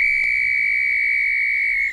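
A crossing guard whistle blown in one long, loud, steady shrill blast lasting nearly two seconds before cutting off, heard up close with no talk over it.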